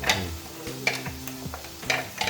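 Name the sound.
beef frying with crushed ginger and garlic in a pan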